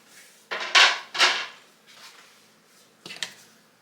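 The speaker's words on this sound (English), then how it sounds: "Now I'm going to add in some carrots" Chopped baby carrots tumble into a cooking pot for chicken and rice, a few quiet clattering drops in two small clusters, close and alone.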